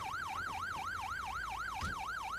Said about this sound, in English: we're going to have that siren now till I turn it off